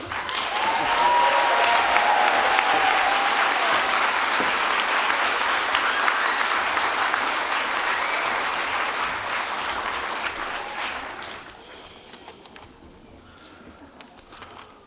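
A convocation crowd applauds graduates, students and parents with loud, dense clapping that gradually thins and fades to scattered claps near the end.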